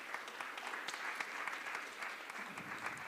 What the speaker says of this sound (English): Can you give them a hand of applause?